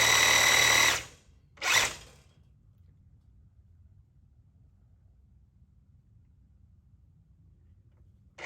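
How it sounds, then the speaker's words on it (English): A power drill bores an anchor bolt hole into a shop floor, one loud close whirring burst for about a second, then a brief second burst before quiet. "And then I will drill the holes, we'll put these anchor bolts in"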